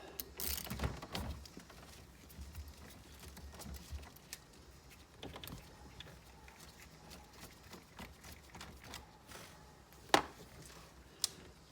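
A 15mm ratchet clicks in short, quiet bursts while loosening the steering wheel nut on a Foxbody, with scattered metallic taps and one sharper knock near the end.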